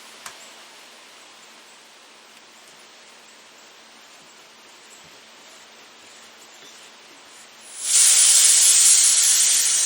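A 12-gram CO2 cartridge adapter for a Sig MCX/MPX air rifle bursts into a loud, steady hiss of escaping gas near the end, following a long stretch of quiet background noise.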